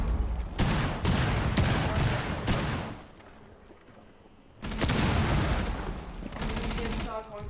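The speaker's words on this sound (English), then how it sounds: "Throwing frag grenade." Heavy gunfire and a blast in a video game, where a frag grenade was thrown: dense rapid shots, a lull, then another loud burst with a booming hit, with some voice under the fighting.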